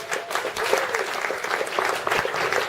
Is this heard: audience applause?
yes